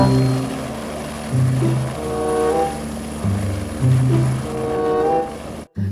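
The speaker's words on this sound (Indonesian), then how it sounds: "lihat, ada helikopter perang" A military helicopter droning nearby, its engine tone rising and falling in pitch, ending with a brief abrupt cutoff.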